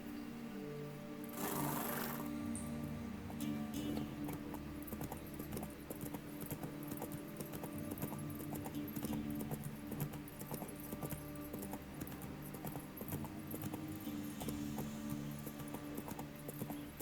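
Horse hooves clip-clopping in The Witcher 3, a steady run of close hoofbeats lasting throughout over a constant game ambience, with a brief burst of noise near the start and no talk.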